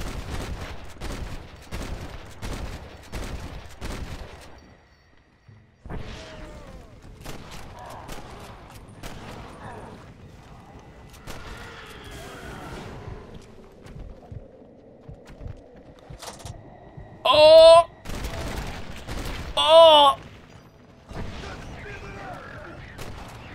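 Gunshots fired at a zombie in the Red Dead Redemption Undead Nightmare video game: a quick run of sharp shots at the start, then scattered reports and two loud ringing blasts later, with game sounds and talk mixed in.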